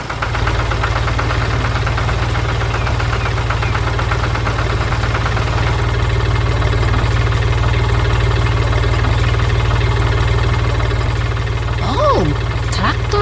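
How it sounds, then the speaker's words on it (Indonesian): A blue cartoon tractor with big tires runs in a green farm field, its engine holding a steady, loud, droning idle with a faint knocking texture throughout, and a brief high chirp near the end. "traktor biru dengan ban besar sedang bermain di tengah kebun hijau"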